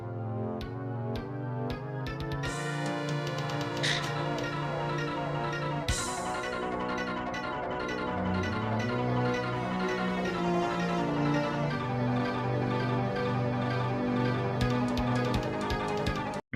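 A fan-made music track for the oil boss in a Super Mario 64 mod plays alone, a melodic synthesized tune with sustained chords, a descending bass line and shifting layered notes, fairly full and continuous.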